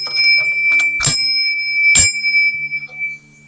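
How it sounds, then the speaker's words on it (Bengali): A metal bell at a lakeside Hindu shrine is struck twice, each clear ringing strike followed by a sustained shimmering tone that slowly decays, close and loud against quiet surroundings. "ঘন্টাটা বাজাই"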